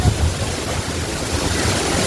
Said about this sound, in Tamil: நாங்கள் தண்ணி பாருங்க எவ்வளோ தண்ணி வருதுன்னு